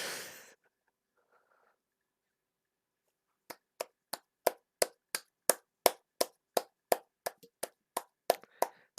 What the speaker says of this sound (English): Oh, they're clapping again.